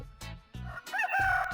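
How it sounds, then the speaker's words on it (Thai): A rooster crowing sound effect: a single loud, close cock-a-doodle-doo that starts with short throaty bursts and rises into a strained, wavering call, with no other sounds. "อันนี้เสียงไก่นะครับ"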